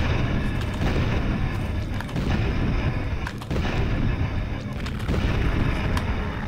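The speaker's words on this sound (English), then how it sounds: "let's kill it with the handgun" Handgun shots in the survival game Lone Survivor ring out in a dense, loud run of booming reports over a rumbling game backdrop, with faint talking mixed in.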